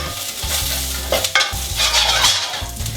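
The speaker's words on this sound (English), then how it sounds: "So they're going to go straight into the pan with a little bit more olive oil. Just stir them to coat nicely." Green beans fry in olive oil in a pan while a spoon stirs them, giving a steady close sizzle with scraping strokes and a few louder clatters, no voices.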